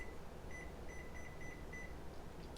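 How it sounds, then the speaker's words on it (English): A kitchen timer set for an oven bakes a tray of popcorn; it gives a quick series of short, high, evenly spaced beeps, fairly faint against a steady low hum of room noise. "Set our timer."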